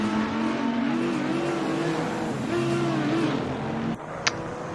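GT3 race car engine at Kyalami in a racing game, a loud sustained droning whine that rises and dips with throttle, cutting out near the end before a brief sharp knock, with no talk over it.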